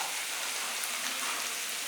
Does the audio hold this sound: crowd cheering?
no